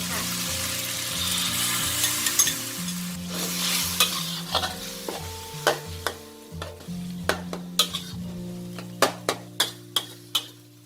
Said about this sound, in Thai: เราก็มาเติมน้ำสต๊อกค่ะ